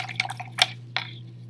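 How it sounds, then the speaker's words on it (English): Watery swishes and drips as a paintbrush is rinsed in a cup of water during a watercolor painting session, several short splashy bursts close by over a steady low hum. "rinse your brush again"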